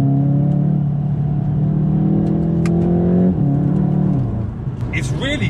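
VW Golf TCR, front-wheel drive, engine droning steadily and rising slightly as it accelerates, heard from inside with someone talking over it.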